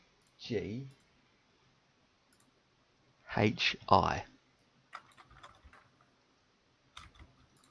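Rapid bursts of clicking keystrokes on a computer keyboard entering an airport ID, two short clusters of taps with a voice speaking briefly between them.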